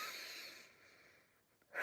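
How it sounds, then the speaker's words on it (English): A slow, deep exhale during a guided meditation breathing exercise, an airy breath fading out over about a second, followed by the start of a fresh inhale, close and quiet with no talking. "So breathe."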